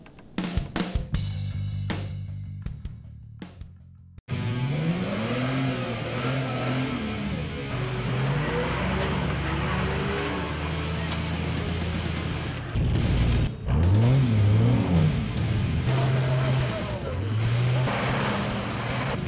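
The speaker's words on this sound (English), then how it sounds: "Just to put on a bit of a demonstration to show people a bit about competition four-wheel driving." A four-wheel drive vehicle at a competition demonstration revs hard after a few clicks and knocks, its engine loud and close with repeated rising and falling surges, and a voice is heard beneath.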